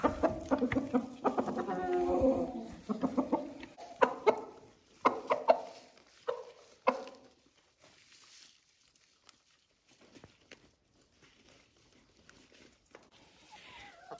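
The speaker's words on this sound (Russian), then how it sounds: "Чубатый доминант Чехия очень летательная птица." Czech crested chickens cluck and chatter close by in a burst of several calls, then fade to quieter scattered clucks and rustling.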